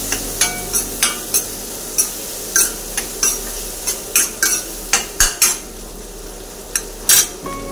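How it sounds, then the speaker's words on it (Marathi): Rice being sautéed and stirred in a pan for a Maharashtrian phodnicha bhaat, with repeated sharp metal spoon scrapes and clinks against the pan in an irregular rhythm over a faint steady background, no voices. "व्यवस्थित परतून घ्यायचं आहे"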